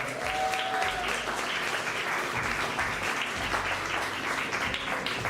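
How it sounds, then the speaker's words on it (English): Steady, loud applause from a crowd at a poetry night, continuous clapping filling the whole stretch with a few faint voices underneath. "Give my bartender a round of applause, ladies and gentlemen."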